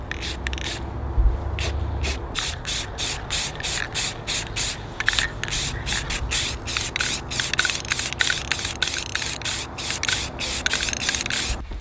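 Spray paint going onto a hood scoop made from an old Jeep hood, second coat: a long run of short hissing bursts in quick rhythm, close and fairly loud, with no talk.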